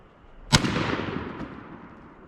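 A 12 gauge shotgun fired while patterning for turkey season: a single sharp, loud blast followed by a long rolling outdoor echo that fades over about two seconds.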